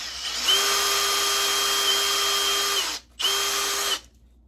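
A power drill with a 2mm bit whines steadily at close range drilling a tiny hole in a holiday ornament, pauses briefly, then spins up again before stopping.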